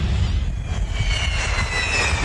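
Jet-powered funny car at a drag strip during a jet funny car nationals event, a loud, sustained turbine roar with a rumbling low end and a faint high whine, heard alone without talk.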